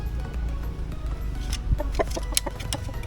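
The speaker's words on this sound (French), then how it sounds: "C'est un coq quoi, c'est pas une poule." A rooster in a traditional Balinese village near Candi Dasa, clucking and calling in short bursts over a busy outdoor background.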